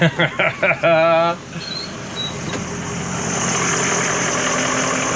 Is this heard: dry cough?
no